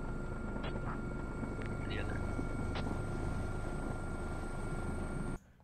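Steady helicopter rotor and engine drone from a video game, heard from inside the cockpit while the craft climbs toward high altitude, loud and continuous with a few faint electronic beeps, cutting off abruptly near the end.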